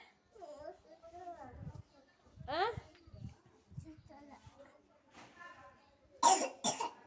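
A young child coughs several times between bits of talk and babble, with two sharp, harsh coughs near the end.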